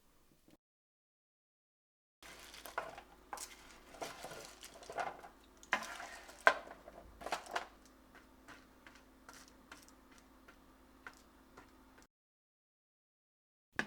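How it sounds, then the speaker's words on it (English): Honey-glazed pecans are stirred and spread on a baking tray, giving soft irregular clicks, taps and scraping rattles at close range, with no talk. "we're going to take them out, we're going to stir them, spread them out into a single layer again"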